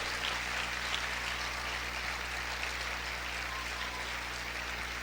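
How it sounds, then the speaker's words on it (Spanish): A church congregation keeps applauding hard during a sermon, a continuous, even roar of many clapping hands from start to finish, with no distinct voices standing out. "Siga aplaudiendo fuerte al Señor."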